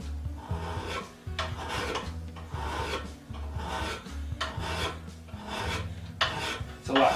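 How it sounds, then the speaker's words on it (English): Metal being draw filed with a coarse hand file, a series of rhythmic rasping strokes, about eight back-and-forth passes, close and fairly quiet with no talk. "called draw filing. It cuts faster because it puts the teeth at a shearing angle on the part."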